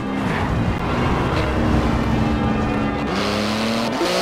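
A 3.8-litre twin-turbo flat-six sports car of about 700 horsepower, driven on Edinburgh streets in Forza Horizon 4, holds a loud, steady engine note with a few clear gear changes.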